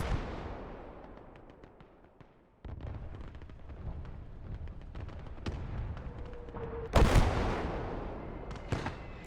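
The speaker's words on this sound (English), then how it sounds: "I've actually brought out another artillery piece." Artillery fire in the WWII strategy game Gates of Hell: Ostfront, a series of deep booms and sharp cracks with rumbling echoes, one especially loud blast near the end among distant gunfire.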